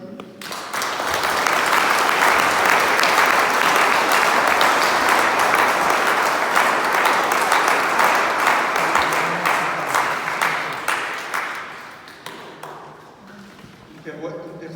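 Sustained applause fills a church during the installation of a new parish priest, rising quickly, holding for about ten seconds, then fading, with a voice speaking faintly toward the end.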